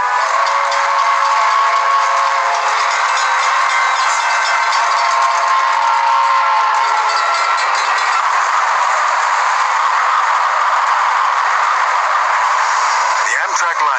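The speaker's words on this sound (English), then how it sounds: "The Amtrak liner smashes into Teresa at 79 miles an hour" An Amtrak passenger train approaches at about 79 miles an hour and sounds its horn in a loud, sustained blast that holds steady for the full fourteen seconds. Rail noise runs beneath it, and a brief sharper burst comes near the end.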